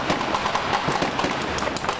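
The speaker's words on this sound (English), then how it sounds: "high-power gunfire, breaking glass." Rapid, crackling bursts of high-power gunfire with sharp impacts and shattering glass, dense and continuous with no pause, during a 2013 police standoff in Latrobe.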